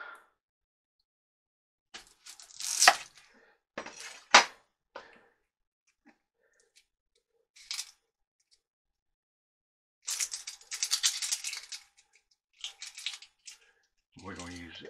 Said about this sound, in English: Let's go ahead and chop this onion.